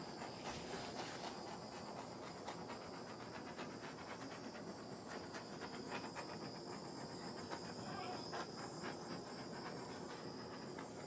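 A torch flame plays over a large Dutch epoxy pour for a clock, making a steady, dense hiss that holds evenly throughout with faint crackling.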